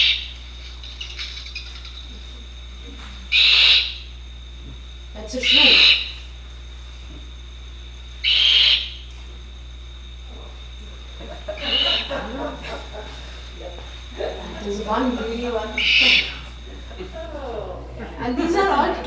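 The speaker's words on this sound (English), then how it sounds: "Now I want to show you some interesting videos of a brown fish owl. The mother is feeding the chick" A brown fish owl at its nest with a chick gives several short, repeated calls spaced a few seconds apart, heard close over steady electrical hum, with someone talking between and after the calls.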